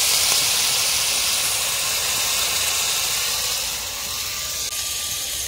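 Potatoes frying in hot oil in a home kitchen, a steady loud sizzling hiss that holds evenly throughout and eases slightly near the end, with no talking.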